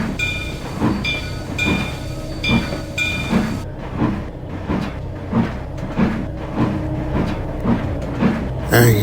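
A freight train rolls along the rails with a regular clickety-clack beat, wheels thumping over joints at a steady rhythm, fairly close and continuous.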